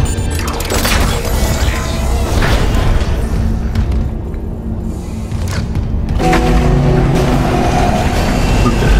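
Gunfire in the game Dead Space Remake as shots blast a monster's limbs: loud, heavy booms and thuds over a dense, rumbling game soundscape that dips briefly midway before surging again.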